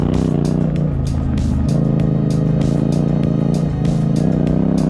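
KTM 690 motorcycle riding a dirt trail, its engine droning steadily and loud throughout with small rises and dips in revs, close to the rider.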